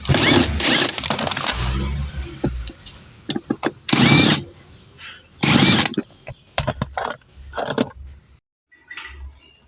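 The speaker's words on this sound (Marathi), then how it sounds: "स्क्रूड्रायव्हरने स्क्रू खोलायचे आहे आपल्याला." A screwdriver loosening screws on a Hyundai Creta dashboard produces intermittent clicks, scrapes and handling knocks, close and uneven, with short quiet gaps between bursts.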